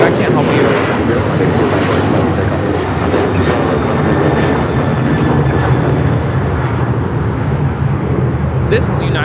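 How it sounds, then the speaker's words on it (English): A United Airlines Boeing 737-900ER takes off from LAX, a steady broad jet roar filling the whole clip with a constant low rumble, while people talk over it. "This is United Airlines 1293 taking off to Houston Intercontinental on the 737-900ER"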